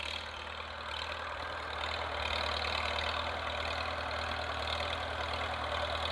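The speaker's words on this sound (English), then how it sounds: "It looks like the tractor's making it just fine." A farm tractor engine drones steadily at a moderate distance while clearing a trail through a sugarbush, its low, even rumble continuous and unbroken, with no talk.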